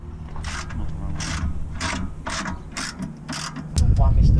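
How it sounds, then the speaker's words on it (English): A ratchet spins a 17 mm suspension bolt loose on a Suzuki Swift Sport ZC32S during a lowering-spring fit, giving repeated close clicking bursts in a steady rhythm, followed by a heavier clunk near the end. "So you want your ratchet on there like so, and then I've loosened it with the breaker bar and she just starts coming off like so."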